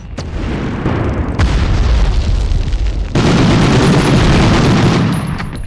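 Grenade explosion in the video game Medal of Honor, a heavy booming blast with a dense rumbling roar that swells louder partway through and holds until near the end, with no talk over it.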